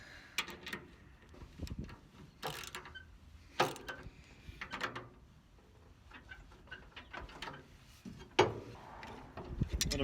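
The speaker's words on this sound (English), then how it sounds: "What I'm doing is I'm loosening the adjuster bolt." A clutch adjuster bolt being loosened with a hand tool during a clutch replacement: sparse metallic clicks, ratcheting ticks and small clunks, close and fairly quiet, separated by near-silent pauses.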